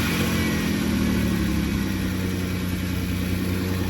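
A Chrysler car engine runs steadily after gas has been added, a loud continuous mid-pitched hum with a slight rev rise early on and no talking.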